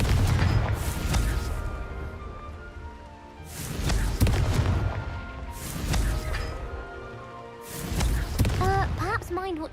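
In the video game Hogwarts Legacy, the Confringo blasting spell sets off four heavy booming explosions spaced a couple of seconds apart, each rumbling before it fades, with brief chirping effects near the end.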